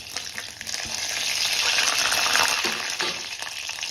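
Mustard seeds and cumin fry in hot oil for a tomato sabji tempering, a steady dense sizzle that swells toward the middle and stays close and even throughout, with no voices.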